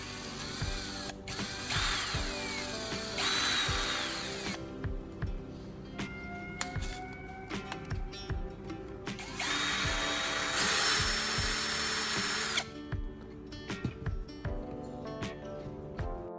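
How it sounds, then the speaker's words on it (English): A power drill spins a knife sharpener made from old lighter flint wheels, running in loud whirring bursts with gritty ratcheting and clicking mechanical sounds between them. "we'll mount this tool directly onto the drill"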